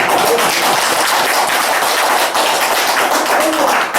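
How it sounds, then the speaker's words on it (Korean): An audience at a lecture applauds in a dense, steady burst of clapping that stays loud and fills the whole stretch without a break. "박수를 치시려면 확실하게"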